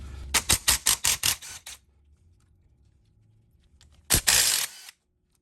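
A ratchet loosens 12 mm bolts on a Toyota W-series manual transmission during teardown: a rapid run of sharp, evenly spaced clicks up close, a quiet pause, then one loud rasping burst, with no talking.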